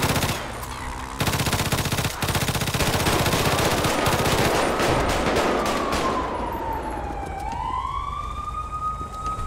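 Rapid automatic gunfire from a video game shooting range, dense and loud bursts that give way to a rising and falling siren wail in the later seconds, with no talking.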